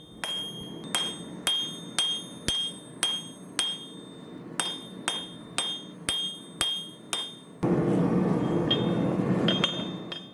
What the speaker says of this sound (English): we're going to taper this edge down by hammering it on two sides